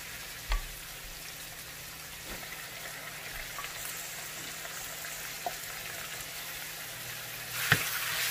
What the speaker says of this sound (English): we're going to saute the pork